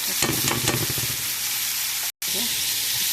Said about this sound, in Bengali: এই যে আমি এখন গরম মশলা দিচ্ছি, একটু নেড়ে করে দিচ্ছি